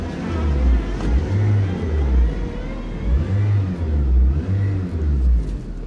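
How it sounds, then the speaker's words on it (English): A Chevy SSR engine revs repeatedly at close range, with several rising and falling throttle blips over a rough, steady idle rumble and no talk. "Give it a little rev."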